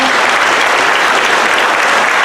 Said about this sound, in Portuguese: Você pode aplaudir a Jesus o Nazareno?